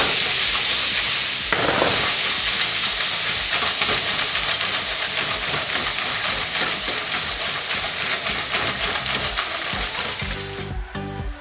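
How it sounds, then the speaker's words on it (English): Mussels cook and get shaken in a hot pan over medium-high heat, giving a loud, steady sizzle and steamy hiss with rattling stirs throughout, up close and without speech. "we're gonna bump that heat to high, about a medium high, and then we're gonna add our mussels in"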